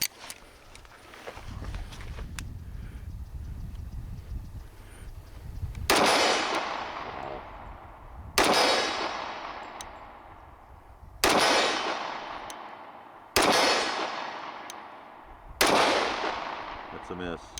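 Springfield Armory Ronin Commander pistol fired outdoors at a target about 30 yards away: five loud, evenly spaced single shots, each trailing off in a long echoing decay, after some quiet handling and rustling.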